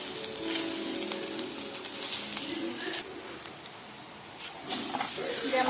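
Grated coconut frying in butter in a pan over a low flame makes a soft, continuous hiss and crackle. The sound is faint and steady, with a few brief swells.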